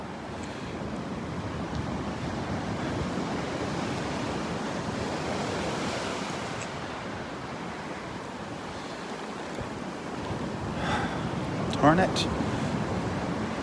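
Ocean waves wash onto the beach at Delnor-Wiggins as the tide comes in, a steady broadband surf roar with wind buffeting the microphone; a voice speaks briefly near the end.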